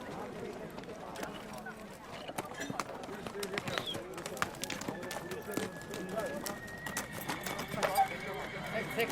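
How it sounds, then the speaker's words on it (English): A horse neighs while hooves clip-clop on the ground at a village horse trade in Asia, heard up close with birds and people talking throughout. "Now they're asking to test ride my biggest horse, Martin."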